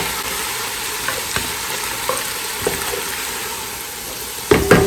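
Minced garlic sizzling in a pan for braised oxtails while being stirred, a loud close hiss broken by scraping stir strokes, ending in a sharper clatter.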